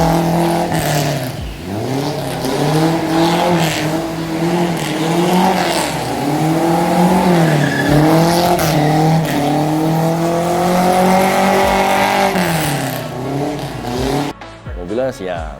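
A 1977 Toyota Corona on small 13-inch wheels drifting, its engine revving hard in rising and falling sweeps that last nearly the whole stretch, with tire squeal mixed in. The sound is loud and close and cuts off abruptly near the end.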